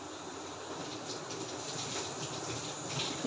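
Tal (palm fruit) batter fritters frying in hot oil, giving a steady, close, even sizzle with faint crackles and no talk.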